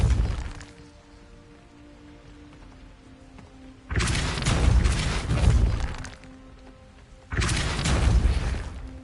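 Two heavy spell blasts in Hogwarts Legacy, each a loud booming burst with crackling, shattering debris lasting a few seconds, separated by a quieter humming lull.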